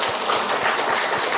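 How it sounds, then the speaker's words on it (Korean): A church congregation claps for a congregant standing to be recognised, giving dense, steady applause of many hands that holds at an even level throughout, with no voices over it. "박수 한번 쳐줍시다."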